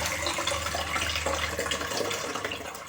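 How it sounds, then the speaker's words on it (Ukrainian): Water gushes and splashes steadily from close by as it drains from jars of tomatoes through holed lids, a continuous draining pour with no voices. "Накриваю кришками з дірками і воду зливаю."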